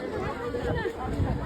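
Crowd chatter among pilgrims gathered at Kalubai temple on a cold, cloudy mountain, a steady murmur of many voices without any clear words.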